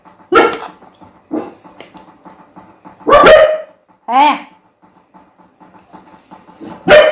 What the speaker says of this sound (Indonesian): Jangan gonggong nak.